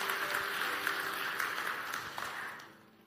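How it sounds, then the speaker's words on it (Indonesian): A church congregation claps steadily together, dense and close, holding level for a couple of seconds before thinning and fading out at the end. "Kita beri tepuk tangan untuk kebenaran ini."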